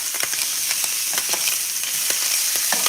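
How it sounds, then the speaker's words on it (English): Continuous hissing sizzle of pork chops frying in a pan, close and steady, with small pops and crackles scattered throughout. "So you can hear it sizzling"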